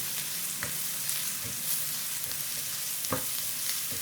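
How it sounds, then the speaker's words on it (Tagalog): Steady sizzling of onion and garlic sautéing in a pan, with occasional clicks and scrapes of stirring, no talking. "Maggisa tayo ng sibuyas. Sunod naman, apat na bawang."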